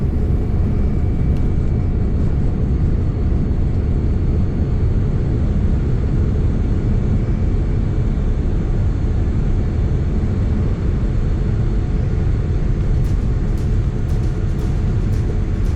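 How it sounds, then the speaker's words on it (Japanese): A Singapore Airlines Boeing 787-10 taking off from Singapore Changi bound for Bangkok, heard from inside the cabin as a loud, unbroken low engine roar and rumble lasting the whole stretch. "それでは飛行機はバンコクに向けて離陸となります。"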